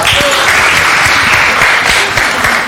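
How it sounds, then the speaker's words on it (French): Studio audience applause as the host Greg arrives on a French café-style quiz show, a loud, continuous wash of clapping from a full room with no talk over it. "Applaudissements."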